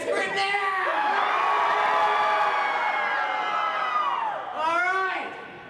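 A crowd at a live horror show lets out a long collective scream, loud and piercing, holding for several seconds before a second burst of shrieks and a fade.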